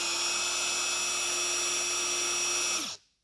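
A cordless drill with a 4,000 RPM no-load speed runs at full speed with a steady high whine, close and constant, then winds down and cuts off near the end.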